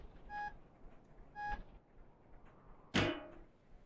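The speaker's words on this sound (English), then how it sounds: "I'm gonna have to be in reverse listening to the beeping the whole way back." A train reversing in the simulation game Stormworks gives two short electronic warning beeps about a second apart, fairly faint, followed by a single heavy metallic clunk.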